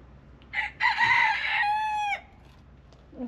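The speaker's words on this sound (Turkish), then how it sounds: "Horoz." A rooster crows once, a loud drawn-out call lasting over a second, close by, with quiet before and after.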